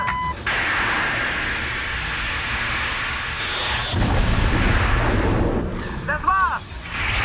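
Aerial dogfight gunfire from the film Top Gun: Maverick, a dense roaring barrage over jet engine noise with a sustained whine, building in intensity and then fading into turbulent rumble.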